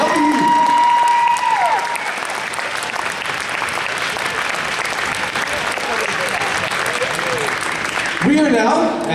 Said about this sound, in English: How about another round of applause for the 6th grade band and Miss W?